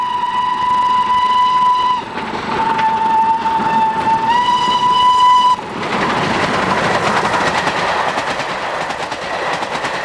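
A packed nine-coach steam train on the line to Skegness sounds a long whistle with a brief break and a pitch shift, then rolls on with a loud, steady rumble and rhythmic clatter of wheels on rail.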